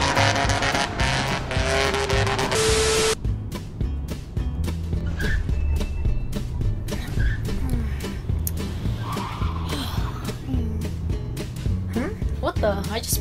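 A car speeds along and skids in a video game, engine roaring steadily while tires squeal in brief bursts, with game music and a voice talking over it throughout.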